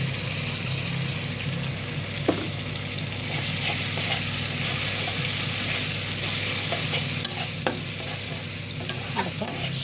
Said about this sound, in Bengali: এবার কষিয়ে নিব ভালো করে